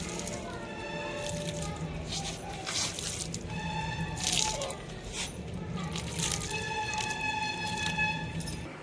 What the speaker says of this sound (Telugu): కొంచెం పోస్తే చాలు, ఆల్రెడీ ఈ మట్టి కొంచెం తడిగానే ఉంది